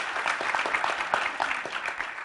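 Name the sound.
audience applause for the panel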